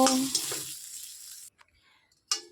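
Bay leaves and two dried red chillies fry in hot oil in a wok with a loud, bright sizzle that fades away, then a short burst of spatter returns; no speech is heard.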